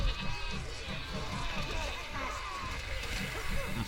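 Sheep bleat in the Overlord video game, several short cries amid busy game sounds and rumbling, with a voice talking over them.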